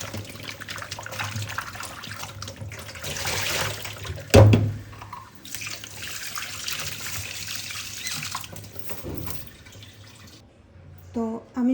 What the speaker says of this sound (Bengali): এখন লবণ দিয়ে ভালো করে ধুয়ে নিচ্ছি।